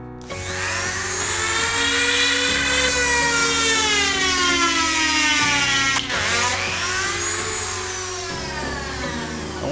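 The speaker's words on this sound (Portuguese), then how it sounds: "Vamos furar essas madeiras usando uma furadeira ou uma Dremel." A drill or Dremel boring holes in wood pieces for a scale Piper J3 model plane, a loud, close whine that rises in pitch, dips briefly, then spins up again with continuous shifting tones.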